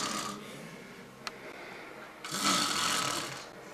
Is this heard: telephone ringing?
no